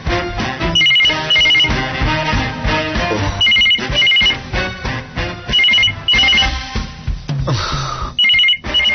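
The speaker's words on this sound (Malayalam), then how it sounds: "ഈ ഫോൺ എടുക്കൂ ശിശുപാല." A telephone rings in repeated short bursts over loud background music, its trilling bell recurring several times across the stretch.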